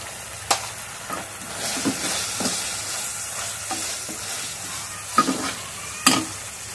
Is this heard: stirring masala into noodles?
yes